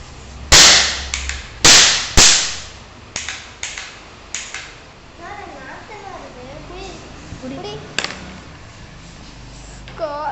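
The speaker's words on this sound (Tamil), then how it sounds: "பட்டாசு பயமாக போடுது." Firecrackers burst at a New Year celebration, several loud sharp bangs followed by smaller scattered pops, close by, with children talking and shouting in between.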